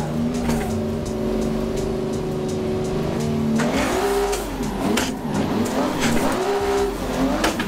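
A race car in the Assetto Corsa driving simulation revs hard, engine pitch sweeping up and down through gear changes, with squealing tires and skids layered loudly over the sustained, near engine drone.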